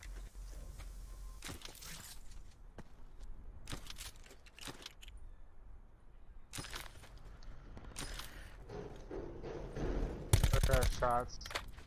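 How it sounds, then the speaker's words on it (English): Gunfire in the video game Call of Duty Blackout: scattered sharp shots and bursts at varying distances, sparse at first and then a dense close volley near the end, with players talking. "Shots"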